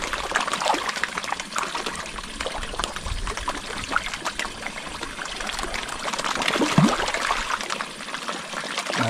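Fresh water pours steadily into a koi pond, a continuous trickling splash that runs the whole time without pause, with no speech over it.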